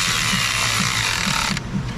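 A ratchet wrench tightening a homemade bolt just enough to seat it on a gasket, giving a loud, steady run of close metallic ratcheting clicks over dense mechanical noise that eases off near the end, with no talk.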